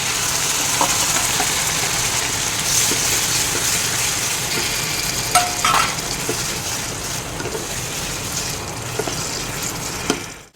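Ginger paste, tomato and green chilli sizzle and fry in hot oil as the base for fried rice, a steady close hiss with a few faint clinks of stirring, no voices.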